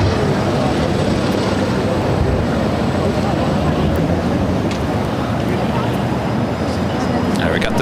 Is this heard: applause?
no